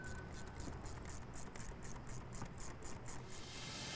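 Intercooler pipe clamps on a Chevy Silverado 1500 are tightened with a ratchet, a quiet, regular run of rapid clicking strokes close by.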